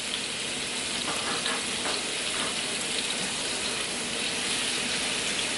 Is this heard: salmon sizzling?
yes